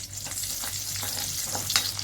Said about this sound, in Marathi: पीठ शिजवलं होतं त्याच कढईत आपण तेल घेतले, त्यामध्ये लसूण,